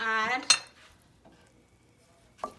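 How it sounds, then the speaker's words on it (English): A spoon stirs fish soup in a pot, giving a couple of brief metallic clinks and scrapes separated by near silence, with a faint tonal ring at the start. "give it a stir, and then I'm gonna add some salt and black pepper."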